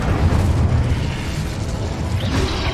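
An Incendio fire spell erupts in Hogwarts Legacy with a loud, continuous roaring blast, a heavy rumbling burst of flame that sustains for several seconds without letting up.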